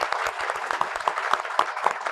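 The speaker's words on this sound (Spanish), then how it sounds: "Un aplauso para que lo oigan." Steady audience applause at a televised youth ministry interview, many hands clapping together in a dense, continuous patter with a few sharper claps standing out.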